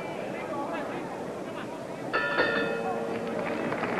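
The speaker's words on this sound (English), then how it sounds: "that's the bell for round 9" Boxing ring bell clangs to end round 9 of a title fight in Las Vegas, a bright ringing tone that starts sharply and hangs under crowd noise and a commentator's voice.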